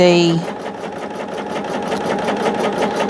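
A sewing machine runs in quick rhythmic bursts of stitching as quilt background pieces are joined to printed border fabric for a woodland quilt, close and steady, with a voice speaking over it.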